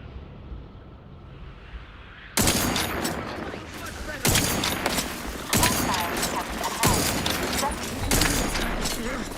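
Turret in The Outer Worlds 2 firing dense bursts of gunfire that arrive in repeated loud volleys after a quiet start, with a voice speaking around the shooting.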